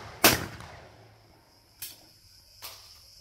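A shotgun fires at clay targets on a compak sporting range: one loud sharp report, then two fainter shots spaced about a second apart, each with a short outdoor decay.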